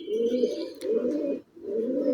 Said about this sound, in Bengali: এটা হলো পাকিস্তানি জালদার কবুতর, রানিং পেয়ার কবুতর।